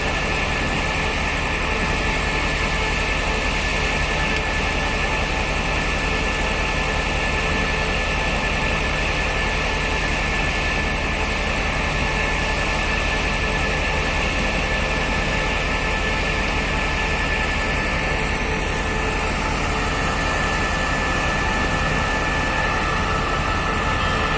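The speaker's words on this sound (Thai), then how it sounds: "ขบวนรถทดสอบที่ 1151 จะออกจากสถานี รถไฟชุมทางบางซื่อแล้วนะครับ" A diesel test train, number 1151, departs Bang Sue Junction station in Bangkok, rumbling steadily and loudly for the whole stretch, a continuous heavy mechanical drone with a faint high whine, nobody speaking.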